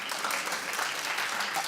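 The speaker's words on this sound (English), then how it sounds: "Clap if you did." Dense clapping comes from a studio audience, steady and fairly loud throughout a short burst with no pauses.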